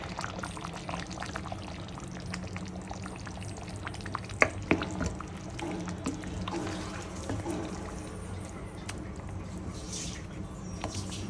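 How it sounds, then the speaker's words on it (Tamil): Coconut milk poured into a mutton rib bone curry simmering in the pan, a soft continuous pour and sizzle with faint stirring and a couple of small clinks. "நம்ம இப்போ தேங்காய் பால் ஊற்றிட்டு போகிறோம்"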